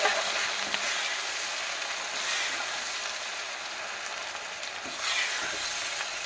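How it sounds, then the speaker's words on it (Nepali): Chili, garlic and ginger masala paste sizzles steadily in oil over a low gas flame, a continuous bright frying hiss with faint stirring scrapes, fairly close and alone. "मसलालाई पनि सानो ग्यासमा यसरी नै चलाइ पकाउने"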